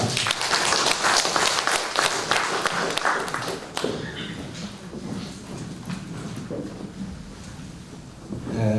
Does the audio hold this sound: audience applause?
yes